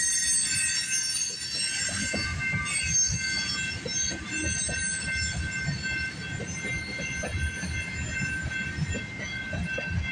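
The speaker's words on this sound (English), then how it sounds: "Lots of squealing noises out here." CPKC freight train wheels squeal in high, sustained metallic tones over the rumble and clatter of passing cars at Guelph Line in Campbellville, steady and fairly close.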